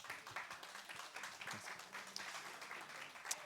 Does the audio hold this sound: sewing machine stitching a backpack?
no